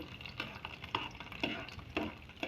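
Ten cut garlic cloves frying in hot oil, a soft low sizzle with a few rhythmic stirring scrapes, close but quiet and brief, no speech.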